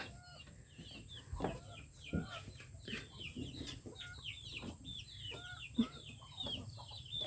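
Chickens and ducks on a rural farm cluck and chatter in a steady, busy stream of short calls at moderate distance, with occasional louder bursts over a continuous background hum.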